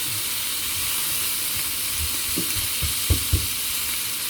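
Onions and tomatoes fry in a pan with a constant, loud sizzle and steady hiss, with a few soft low thuds near the end as the food is turned.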